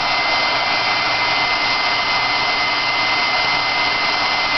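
A heat tool melts embossing powder into an enamel-like coating, giving a steady, loud hair-dryer-style blowing hiss that runs unbroken throughout with no talking.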